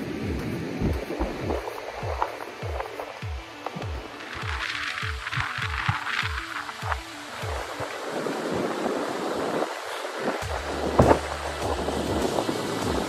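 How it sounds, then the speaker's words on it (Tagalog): Ocean waves wash and break in repeated surges with rushing, hissing water on a windy shore, joined by a low rumbling hum toward the end. "Ito yung alon eh."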